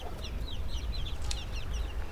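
Chickens cluck in short repeated calls over a steady low rumble of background noise, moderately close, with no talking.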